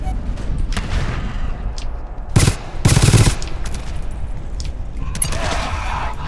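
Gunfire in the co-op horror shooter GTFO: a couple of sharp, loud shot bursts crack close by over a steady ambient rumble, with a quiet rattle earlier in the stretch.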